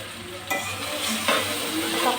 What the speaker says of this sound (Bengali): এখন দিয়ে দিচ্ছি ভেজে রাখা কাতলা মাছের মাথার টুকরোগুলো।